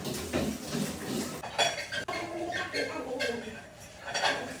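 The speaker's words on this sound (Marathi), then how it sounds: "दोघींनी मिळून नंतर मग भांडी घासली आणि हे भांड्याचं जाळं पण घासून घेतलं." Steel utensils being scrubbed and washed in a home kitchen with a dish-scrubbing mesh, clattering and rubbing in uneven bursts close by while birds coo faintly in the background.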